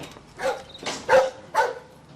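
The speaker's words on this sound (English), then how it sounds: "What, is it the dog?" A dog gives several short barks, three or four distinct bursts spaced irregularly over about two seconds, fairly close and loud, with no speech.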